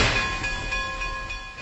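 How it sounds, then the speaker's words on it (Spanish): A railway train rumbles past on the tracks in a city setting, a steady close low roar with faint high tonal squeal, alone without voices. "los trenes ferroviarios te pasan por la cara"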